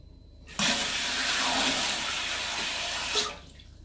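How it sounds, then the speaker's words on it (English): Rushing water fills a toilet cistern after a new filler valve is fitted and the supply is turned on: a sudden loud, steady hiss and gush lasting about three seconds, then it cuts back to quiet. Nearby, with no talking. "And turn the water on."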